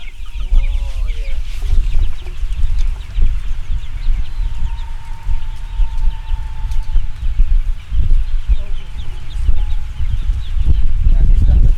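Broiler chickens on a farm cluck and chatter in a busy flock, with short calls scattered throughout, while people talk nearby over the birds.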